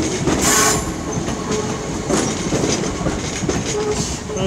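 Train at Glasgow Central station, a steady rumbling roll with clicking wheel and rail noise and faint squeals under the station's hollow ambience.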